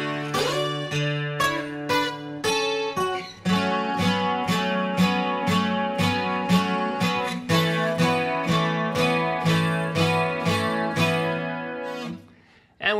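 Slow guitar chords for a song, strummed one at a time with ringing sustain and a steady, unhurried rhythm, close and clear before fading near the end.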